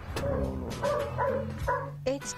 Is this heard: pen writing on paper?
no